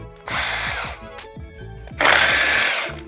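Cordless Ryobi impact gun undoing wheel bolts on a Fiat Coupe, two loud close bursts of whirring and rattling hammering, the first about 0.7 seconds long and the second about 1 second, with a short pause between them and no talk.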